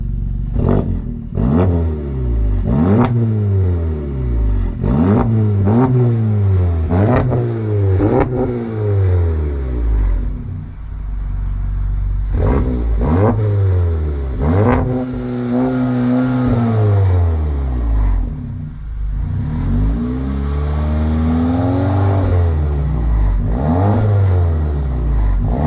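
Repeated loud revving from a VW Jetta GLI MK7 fitted with an MBRP 3-inch catback exhaust, sharp blips rising and falling, then longer held revs, close up, with no talking.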